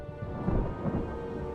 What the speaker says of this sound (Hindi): बिजली कड़क रही थी,